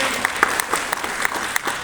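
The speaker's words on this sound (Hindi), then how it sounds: "मैं चाहूंगा सभी न्यू और जितने भी पीएन अचीवर उनको एक बार जबरदस्त ताली उनके सम्मान के लिए" An audience at an achievers' recognition event claps in honour of new achievers, a brisk burst of scattered hand claps that are fairly close and loud, with no talking.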